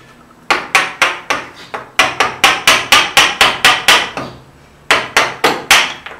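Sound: chisel tapped with hammer cutting out MDF

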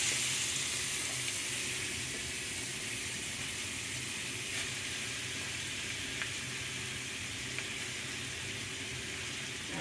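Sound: slices of red snapper sizzling as they fry in a pan

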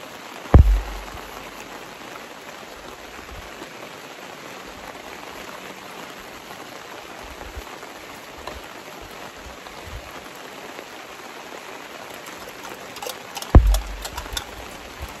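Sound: rain falling

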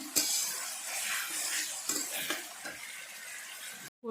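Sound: onions frying in a pan

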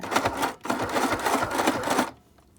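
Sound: cheap sewing machine stitching fabric for a face mask

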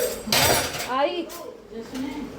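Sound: clinking spoons being taken out

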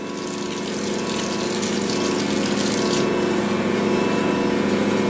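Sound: water running as hands are wetted while kneading sourdough

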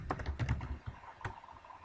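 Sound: typing on a computer keyboard

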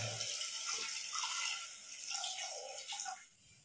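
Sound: pouring water over mutton trotters in pot

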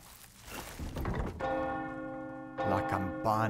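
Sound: church bell ringing in video game Resident Evil 4 Remake

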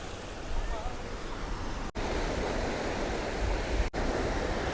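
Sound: large sea waves at Bandra Beach

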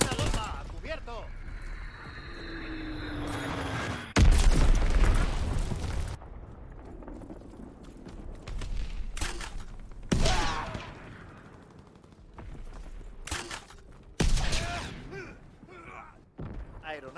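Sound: bomb explosions from video game Call of Duty WWII

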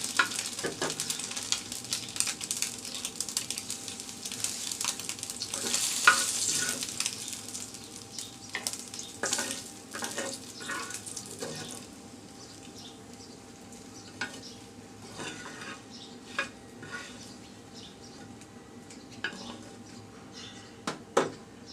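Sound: frying dried chillies with salt in a pan

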